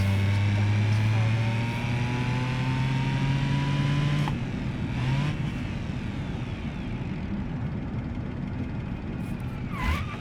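A car engine in the driving game BeamNG.Drive drones and revs with gear changes, its pitch climbing and shifting in steady tones, then easing off into a rougher rumble with a brief sharp whine near the end.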